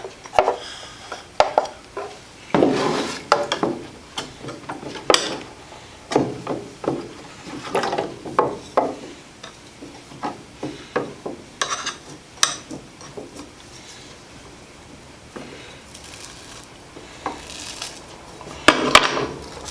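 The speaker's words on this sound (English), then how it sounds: "with your putty knife, you can peel off that" A putty knife scrapes and peels old tape off a glass platen, giving a series of irregular scraping strokes and sharp clicks and taps of metal on glass, close and fairly loud, with quiet gaps in between.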